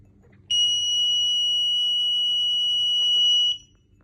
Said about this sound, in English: if we put a turbidity sensor in the dirty water, the red lights will appear up and the buzzer will buzz